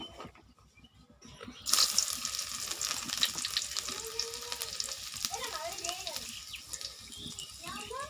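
Chopped garlic hits a pan of oil with already fried dried chillies and breaks into a loud, steady sizzle after a quiet start, with a voice talking faintly underneath.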